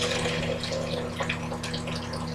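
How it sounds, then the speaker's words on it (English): Water poured out of a pot while draining it in a hotel room, a steady close splashing rush that runs unbroken for the whole couple of seconds with no talk. "So we're going to go ahead and drain all that water."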